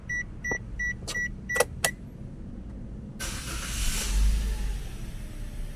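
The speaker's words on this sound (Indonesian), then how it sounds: "Kita akan mencoba starter ya." A Daihatsu Sigra car being started after a check-engine fault: a few dashboard beeps and chimes ring out first, then the starter cranks and the engine catches into a steady close idle, with no talk.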